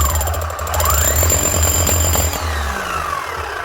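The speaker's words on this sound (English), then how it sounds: "first we'll just make sure she's hammering as well" A rotary hammer drill on a repair bench is test-run, hammering in a loud, fast, continuous rattle close by that eases slightly toward the end.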